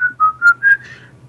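A person imitates a custodian whistling while mopping, a short tune of four or five clear whistled notes, close and alone.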